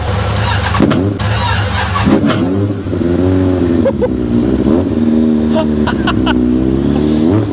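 A large 1200cc motorcycle engine starts and revs loudly and repeatedly over a steady idle, close by, with people talking over it.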